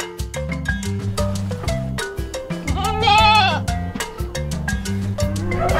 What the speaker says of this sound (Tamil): ஆடு ஆடு,